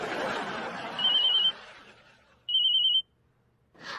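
Mobile phone ringtone for an incoming call in a Hindi TV comedy household, two short electronic ringing bursts separated by a pause, loud and close, with talk fading beforehand and a voice starting at the end.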